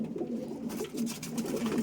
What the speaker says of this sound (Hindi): ये मुखी कबूतर है।